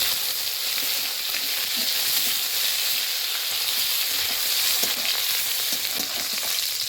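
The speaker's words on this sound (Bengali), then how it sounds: "পেঁয়াজ কুচি দিয়ে দেবো" Chopped onion frying in hot oil with cumin seeds, a dry red chilli and a bay leaf, a steady close sizzle with crackling pops running throughout, no voices.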